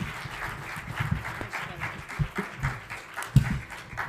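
Church congregation in Toronto claps to welcome a worship leader to the front, a moderate, somewhat thin round of applause with scattered sharper claps and faint voices mixed in.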